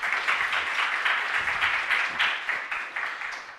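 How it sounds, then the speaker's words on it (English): Warm audience applause welcoming a speaker on stage at the OpenFest conference, a sustained crowd of many hands clapping in a steady, even wash that tapers slightly toward the end. "please give your warm applause for Zlatko Trajcheski"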